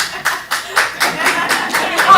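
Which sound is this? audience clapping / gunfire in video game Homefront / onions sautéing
audience clapping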